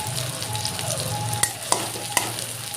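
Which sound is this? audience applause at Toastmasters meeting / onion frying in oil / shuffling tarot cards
onion frying in oil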